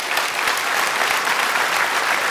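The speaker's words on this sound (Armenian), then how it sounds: "ձեր ծափարությունների ներքո" Audience applause fills the space with dense, steady clapping at close range, loud and continuous from start to finish with no talking over it.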